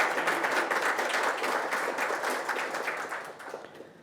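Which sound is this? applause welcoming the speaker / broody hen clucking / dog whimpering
applause welcoming the speaker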